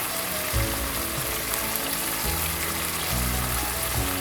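Lamb meat seasoned with salt fries in a pan, making a steady, dense, close sizzle throughout with no one talking.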